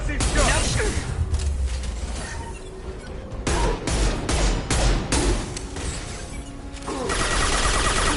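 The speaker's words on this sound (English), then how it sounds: "Firing concussive shots." Heavy concussive gunshots and explosive impacts from a Mass Effect 2 firefight, a series of loud booming blasts in irregular bursts amid chaotic battle clatter, with voices speaking among the shots.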